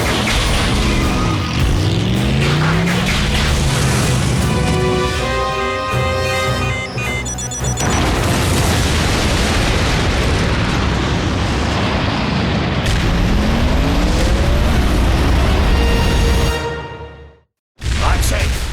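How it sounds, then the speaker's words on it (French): An explosion effect from the animated series Transformers: Prime, loud booming blasts with rushing whooshes and rumbling debris, filling the scene before cutting abruptly to a brief silence near the end. "Explosion imminente!"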